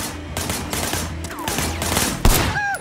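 Rapid bursts of gunfire in Sleeping Dogs, loud and close, with repeated shots in quick clusters and a sharp heavier blast near the end, followed by whistling ricochet-like tones.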